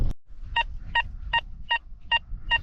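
Metal detector out on a field search for old coins giving a strong signal: six evenly spaced, loud electronic beeps about every 0.4 seconds, each a short bright tone, over low rumbling background noise.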